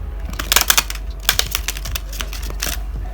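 Slippery tarot cards are shuffled close up in a quick run of crisp, papery riffling clicks that bunch into bursts, with no talk.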